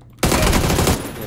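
Gunfire in an online shooter game: after a quiet moment a sudden loud burst of rapid automatic shots erupts and rings out for about a second before tailing off.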